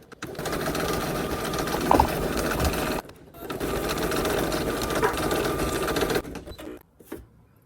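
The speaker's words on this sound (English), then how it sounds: "next it's going to stitch the horizontal lines on the embroidery side only" Embroidery machine stitching horizontal lines, a fast, steady mechanical needle chatter in two sustained runs broken by brief pauses, close and fairly loud, ending with a few short bursts.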